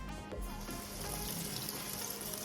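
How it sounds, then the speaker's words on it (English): Tap water runs over canned chickpeas in a strainer at a kitchen sink, a steady close splashing hiss that fills the whole brief moment. "I also like to drain them, strain them, and rinse because sometimes there's like nasty stuff in the can."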